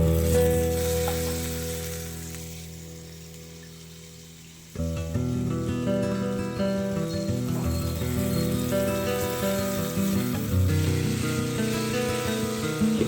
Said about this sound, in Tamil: இப்போ அதை சேர்த்துட்டு நல்லா வதக்கிக்கலாம்.